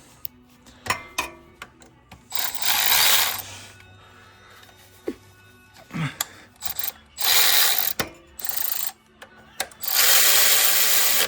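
Two 10 mm bracket bolts on a car being tightened with a ratchet: repeated bursts of rapid ratcheting clicks, close and clear, with short pauses and small clanks between them.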